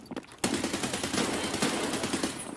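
AK-74N gunfire in Escape from Tarkov: a sudden, loud, sustained automatic burst of rapid rounds kicks in and runs without pause to the end, alone with no talk.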